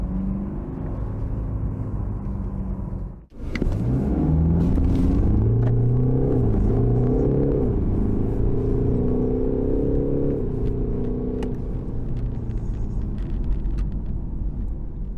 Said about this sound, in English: It's quite a classic 4-cylinder diesel sound, and there's definitely a little bit of fakery coming through the speakers